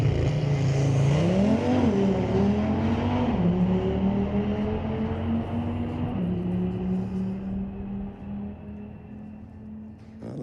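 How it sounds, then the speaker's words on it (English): An Audi street-legal drag car races down the strip at Mission Raceway Park, its engine loud and close, climbing through rising revs with gear changes before the note steadies and slowly fades. "That Audi chased him down"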